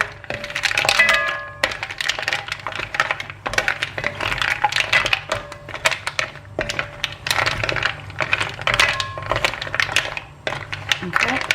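Mussel shells tossed in a pan for a curry coating, a busy run of close, hard clattering and clicking shell knocks in quick irregular bursts, continuing with short pauses.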